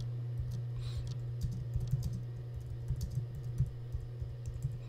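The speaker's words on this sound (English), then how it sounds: "you can just type in the main headline" Keys clatter in quick, uneven bursts as a headline is typed on a computer keyboard, close and fairly quiet over a steady low hum, with no talking.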